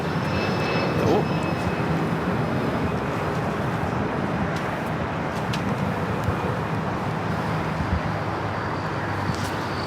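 A Turkish Airlines Boeing 787 Dreamliner takes off on the south side at Los Angeles LAX airport, a steady, broad jet engine roar that stays continuous throughout, heard from a distance with faint background noise.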